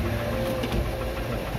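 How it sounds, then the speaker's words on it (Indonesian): A used car's engine idles close by with a steady low rumble and a faint, light knocking running through it, with no talk over the sound. "Mesinnya agak sedikit ngelitik nih Mas ya?"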